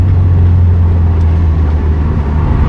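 Car driving steadily on the road from inside the cabin, a loud, constant low engine drone and road rumble with little variation.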